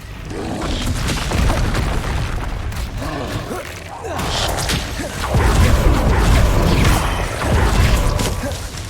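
Diffindo spells cast in the Hogwarts Legacy video game, with booming magical whooshes and sharp cutting swishes layered over dense, loud combat effects, in two surging waves.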